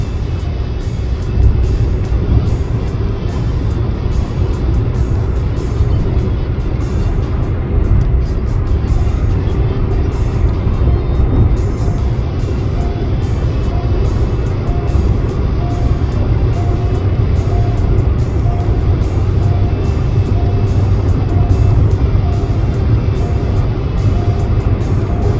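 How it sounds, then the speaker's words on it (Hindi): A car speeds along the Purvanchal Expressway at around 130 to 150 km/h, giving a loud, steady roar of road and wind noise heard from inside the cabin, unbroken throughout. "इस समय गाड़ी 130, 132 पर चलती हुई और जल्दी 150 पर पहुंचेगी"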